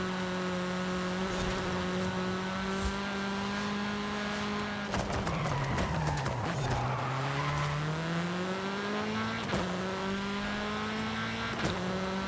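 Tire squeal and skidding as a car spins out in the video game Forza Horizon 5, steady engine drone with a sustained screech and a burst of chaotic sliding noise midway, alone without talk.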